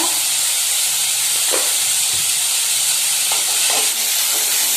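Chopped tomatoes with salt sautéing in a pan for a tomato dosa masala, giving a steady broadband hiss and sizzle with a few soft stirring clicks, no talk.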